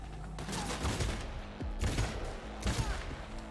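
Gunfire in the video game Cyberpunk 2077 comes as loud repeated volleys of shots in several bursts over a rumbling background, with no talk.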